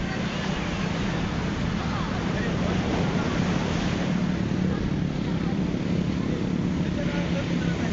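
Rough sea surf breaking on a beach in Zambales, a loud, continuous broadband roar of crashing waves with wind buffeting the microphone throughout.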